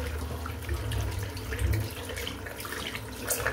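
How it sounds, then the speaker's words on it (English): A tap runs steadily into a sink while a 28mm silvertip shaving brush is rinsed under it, a continuous close splashing flow with slight shifts as the water hits the bristles. "I'll rinse the brush"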